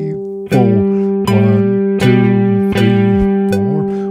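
Guitar repeats a single note in a steady rhythm of one short quarter note followed by a long sustained dotted half note, four times over, each attack clear and close with no talking.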